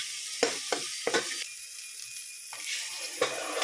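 Browned onions and vegetables frying for palav crackle and sizzle in a pan, with several quick scraping stirs punctuating the continuous hiss up close.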